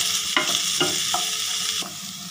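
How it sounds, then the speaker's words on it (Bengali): Carrots sizzle and fry lightly in a pan while a spatula scrapes and stirs in several distinct strokes over a continuous hiss of hot oil, with no voices. "গাজরটা হালকা হালকা ভেজে নিতে হবে"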